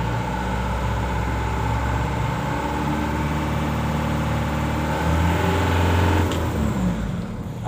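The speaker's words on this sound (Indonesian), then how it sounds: "Kita nyalakan exhaust brake-nya." Exhaust brake switched on during a test on a truck with its right rear wheel raised, giving a steady, loud diesel engine drone with a heavier, rougher surge near the end.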